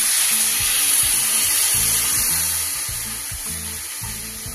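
Water gushes steadily into a pot of barnyard millet, lentils and vegetables for khichdi, a loud continuous pour that tapers off slightly toward the end.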